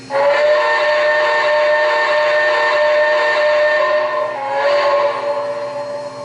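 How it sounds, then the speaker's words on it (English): A long, steady low-toned steam whistle from an MTH RailKing Cab Forward model train sounds with a breathy hiss, dipping briefly then swelling again before fading out; no voices. "First up, here we have, which is my favorite feature, is the whistle."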